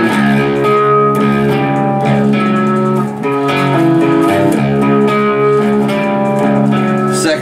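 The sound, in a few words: electric guitar riff with distortion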